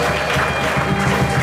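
A church congregation applauds as a pastor is welcomed to the pulpit, a steady, dense wash of clapping that fills the whole moment without a break.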